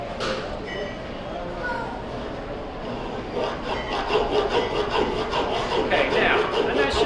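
A carving knife is drawn back and forth through a hammer like a saw, making a rough, rasping scrape that grows louder and more rhythmic in quick strokes toward the end, with no talk over it.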